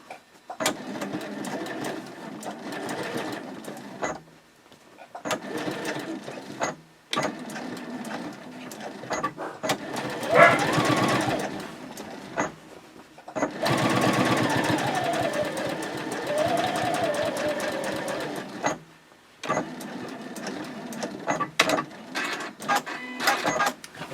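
Sewing machine top stitching beside a bottom gusset seam at a 3.0 stitch length: several close, steady runs of motor whir and needle chatter, broken by short pauses and back-stitch bursts.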